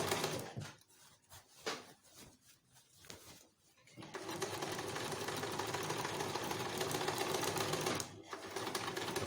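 A sewing machine running gather stitches along the top of a skirt layer, first a few short stop-start bursts, then a long continuous fast whir before a brief pause and restart.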